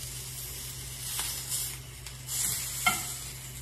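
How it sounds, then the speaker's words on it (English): Blackened fish fries in a pan with a steady, soft sizzle and hiss, broken by a few light scrapes, and no one speaking. "Now that our fish is cooking"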